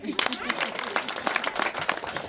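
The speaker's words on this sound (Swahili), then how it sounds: "makofi kwake" A crowd claps for Sister Mary Annah Nyangaresi, a nun, at her homecoming, with scattered uneven claps heard under a voice that keeps talking over them.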